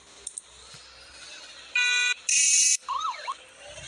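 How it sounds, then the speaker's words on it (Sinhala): A bus horn blares in short bursts, two loud sustained honks followed by a warbling electronic tone, with quieter traffic noise around them. "වැඩක් නැහැනේ බස් එකේ හෝන් එක."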